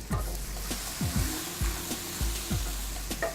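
Leeks sautéing in a pan give a steady, close sizzle and hiss, marked by repeated low thumps and scrapes as the pan is stirred, with no talk.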